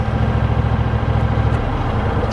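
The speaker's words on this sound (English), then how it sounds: "Idling like it should." A Howard Price Maverick 620 mower engine idles steadily and close up, a low, even, slightly lumpy mechanical thrum with no voices.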